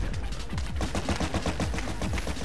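Rapid, continuous bursts of gunfire from the Ace of Spades video game, close and loud, firing in a dense rattling stream with repeated sharp shots for the whole stretch.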